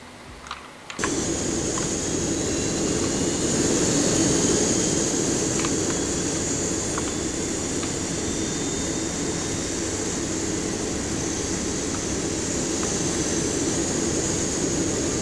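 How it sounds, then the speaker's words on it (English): Jet engine of an Airbus A330 in X-Plane 11 spinning up to a steady, loud roar after a brief quiet start, with a continuous broadband whine holding throughout. "Starting engine 2."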